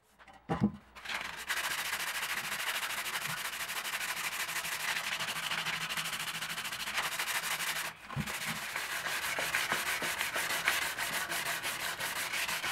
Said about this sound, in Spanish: Comienzo primero con un poco de lija bien gruesa.